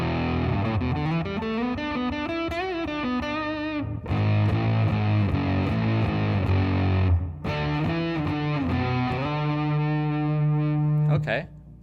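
Electric guitar played through a Big Muff Pi fuzz pedal with the sustain turned down rings out in thick, distorted sustained chords and sliding notes, broken by two short pauses and a final squeal as the playing stops.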